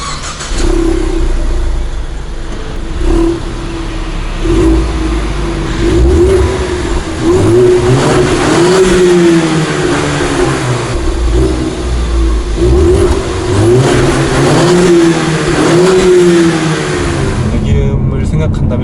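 A single-turbo 2.3-litre EcoBoost engine in a Ford Mustang revs repeatedly, loud and close, rising and falling in long surges over a steady idle for most of the clip.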